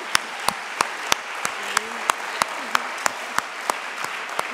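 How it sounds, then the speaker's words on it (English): An audience at an awards ceremony applauds an honoree with a steady, moderate clapping from a crowd indoors, with sharp individual claps standing out regularly over the wash of applause. "We can cheer for her."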